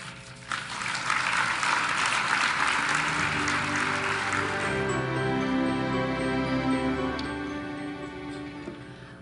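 Warm, sustained applause fills the hall at the University of North Dakota 2014 Sioux Awards ceremony, swelling early, then tapering gradually while music and low tones rise beneath it.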